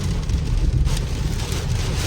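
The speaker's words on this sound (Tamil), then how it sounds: "கொடூரமான மழைடா" Heavy rain and gusting wind buffet a car as it drives along a road, a dense, steady roar of water and rumbling wind noise filling the cabin with no voices.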